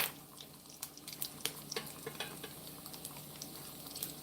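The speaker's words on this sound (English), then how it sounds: "I pour the rest of that coffee in the thermos, and it keeps it piping hot." Coffee is poured from a pot into a thermos in a home kitchen, a faint trickling and splashing with scattered light clinks, close and quiet.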